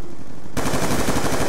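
Gunfire aimed at the player in Call of Duty Black Ops II, a loud rapid automatic burst starting abruptly and rattling steadily for over a second.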